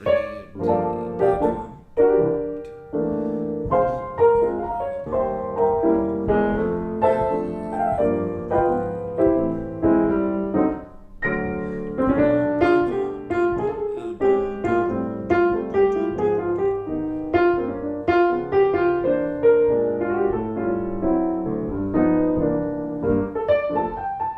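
Solo piano plays a slow, swinging stride ballad, 'When Sunny Gets Blue', with steady low bass notes alternating with chords throughout.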